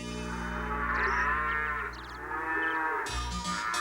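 A cartoon cow lets out a long, loud, drawn-out moo close up, with a brief bright tone near the end and no talking.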